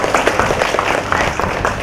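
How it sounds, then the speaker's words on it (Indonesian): Short burst of audience clapping at a creative-city gathering in Tangerang, close and dense with rapid overlapping claps and some crowd murmur. "Tepuk tangan dong"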